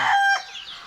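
A single chicken gives a short, fairly close call that rises and trails off quickly, with no talking over it.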